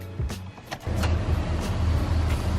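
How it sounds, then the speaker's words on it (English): Starter motor of a Mercedes 190E 2.3 that sat for over five years, cranking with a low grinding whir after a brief click, close and steady without catching, under a weak battery. "That's a starter, it's not a juice."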